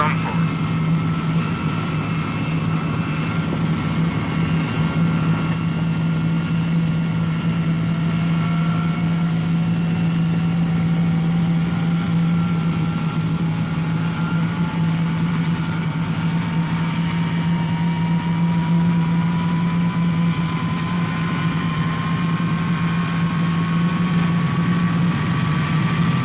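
Jet engine of a Boeing B-47 Stratojet bomber spooling up, a loud steady roar with a hum and a slowly rising whine throughout, joined by a voice speaking over it.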